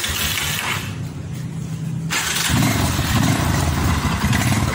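A Yamaha Scorpio 225 single-cylinder SOHC motorcycle, a 2006 model with 2015 modifications, idles low with a close, steady chugging putter that thickens and grows louder partway through.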